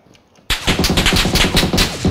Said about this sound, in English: That sounds like an M249